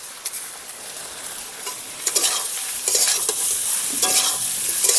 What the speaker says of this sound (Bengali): চিনিটাকেও দিয়ে একটু কষিয়ে নিতে হবে